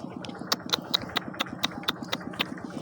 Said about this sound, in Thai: สูบน้ำออกเพราะว่าหอย